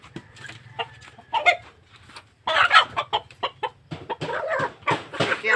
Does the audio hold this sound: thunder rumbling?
no